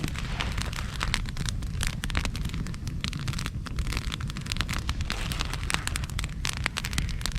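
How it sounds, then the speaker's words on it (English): Moose steaks cooking over an open fire crackle and pop in sharp, irregular bursts over a steady low roar of flames, with no voices. "Cooked him right over that fire now."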